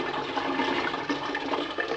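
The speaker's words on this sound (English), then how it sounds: "I'm pouring boiling water" Boiling water pours steadily into a PET brewing fermenter for a ginger beer kit, a continuous close, rushing splash with no pauses and no voices.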